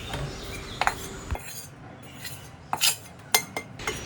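Hot sukhadi mixture is scraped from a heavy kadai into a plate, with sparse metallic clinks and scrapes of a spatula against the pan and plate in a quiet room.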